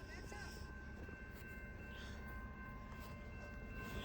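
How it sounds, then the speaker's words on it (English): Train passing through snow, a steady loud rumble with a sustained tonal whine, heard close and continuous throughout. "Train's coming!"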